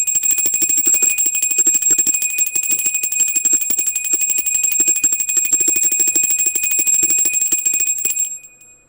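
A bell rings continuously in a rapid, shimmering metallic trill with steady bright tones. It is loud and close, with no talk, and it stops abruptly near the end.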